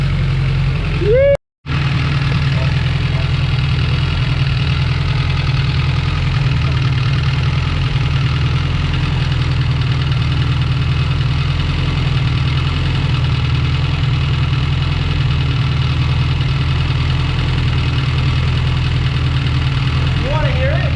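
A Honda Prelude engine idling with a light valve tick in the head, a loud, steady close rumble with a brief dropout near the start, while voices talk faintly over it.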